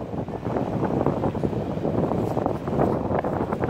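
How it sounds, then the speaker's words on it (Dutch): Strong wind blowing at the waterside, a dense, continuous rumble and buffeting across the microphone, fairly loud and unbroken with no voices. "Ja, er staat ook een beste wind."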